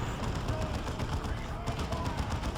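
Missile hits and battle noise in Dawn of War 2: Retribution, a dense, steady barrage of impacts and gunfire crackle at moderate loudness, with a voice talking faintly underneath.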